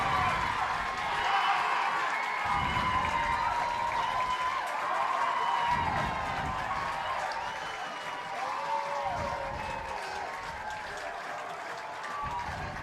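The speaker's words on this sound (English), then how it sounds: "Here come the Grizzlies, and listen to the crowd." A high school football crowd roars and claps as the Wichita Northwest Grizzlies run onto the field, a broad sustained cheer with rhythmic thumps and a commentator talking over it.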